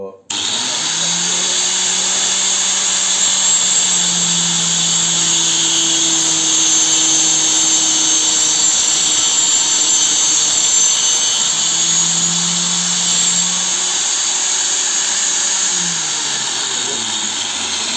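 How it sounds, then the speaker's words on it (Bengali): Angle grinder mounted on a stand, running steadily for a long stretch as it cuts metal pipe and angle rod, a loud whining hum with slight pitch dips under load, close to the listener. "আমরা মেশিনটা তো এখন হালকা পাতলা জিনিস কেটে দেখাবো এখানে পাইপ অ্যাঙ্গেল রড সবই কাটবে"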